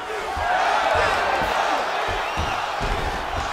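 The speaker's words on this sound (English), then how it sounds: "the crowd pops in appreciation as the fighters work their way back to the feet" A crowd roars steadily at an MMA fight between Khabib Nurmagomedov and Georges St-Pierre as the fighters grapple, a loud sustained cheer with thuds and a commentator talking over it.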